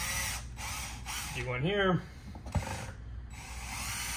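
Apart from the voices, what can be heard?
power drill drilling a starter hole in a hockey skate blade mount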